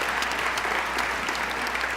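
A gala audience at a Michigan autism charity dinner claps steadily together, a dense, even wash of applause with no voices rising above it.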